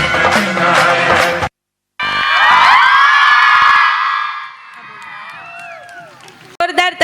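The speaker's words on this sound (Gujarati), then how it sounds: "જોરદાર તાળીઓ પાડ્યા ટેલેન્ટેડ પરફોર્મન્સ માટે" Enthusiastic clapping and cheering from an audience at a primary school annual festival after a children's stick dance performance, loud and sustained for a few seconds before fading, with music briefly around it.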